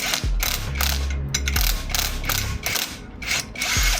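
Ratchet wrench clicking rapidly as bolts are loosened to pull the brake rotor off a 2005 blobeye Subaru WRX STI, close and loud, with several quick bursts of pawl clicks and short metallic clunks, no talking.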